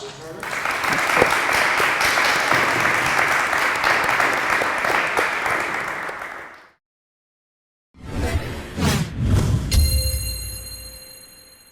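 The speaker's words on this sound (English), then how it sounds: "could you please give a big round of applause to Tarter?" A talk audience gives a long, full round of applause for SETI astronomer Jill Tarter, steady for several seconds before fading out; after a pause, louder clatter and a musical tone follow.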